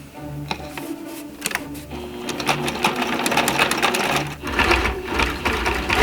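A sewing machine runs steadily, stitching quilted lines across an 18th century bum roll; the close, continuous mechanical whirr carries rapid needle ticks and shifts pace a few times.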